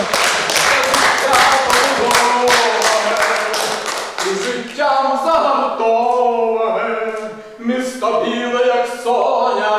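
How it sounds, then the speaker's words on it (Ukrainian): Dense, loud clapping from a concert audience fills the first few seconds, then fades as music with a sung melody begins. "Ваші бурхливі оплески"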